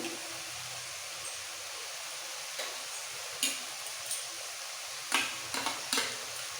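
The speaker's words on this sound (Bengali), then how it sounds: "এবার ভালো করে মশলাটা কষাবো কষাতে কষাতে দিয়ে দেবো হাফ চামচ রেড চিলি পাউডার" Spice paste for egg curry sautéed in a pan, with a steady low sizzle broken by several scraping stirs of a spoon toward the end, close and fairly quiet.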